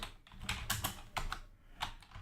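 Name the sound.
typing code on a computer keyboard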